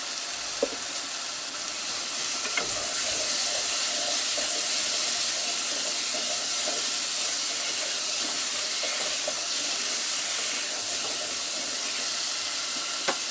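Vegetables and spices with ginger and garlic paste sizzle steadily in a pan, a loud continuous frying hiss with occasional stirring clicks, close by and without talk.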